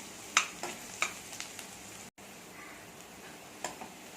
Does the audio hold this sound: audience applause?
no